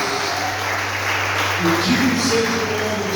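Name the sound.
congregation applauding in a church service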